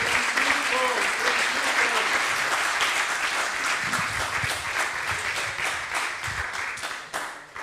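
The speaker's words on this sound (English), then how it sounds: "Give yourselves all a big clap." Audience applause fills a conference hall in Thessaloniki, with dense, steady clapping from a large crowd that stays loud throughout and only begins to thin near the end.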